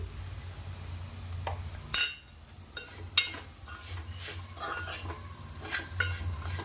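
Ivy gourd (dondakaya) pieces fry with chili powder and salt in a pan, giving a steady close sizzle broken by sharp scrapes and clanks of a spoon stirring against the metal.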